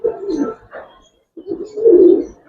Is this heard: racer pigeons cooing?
yes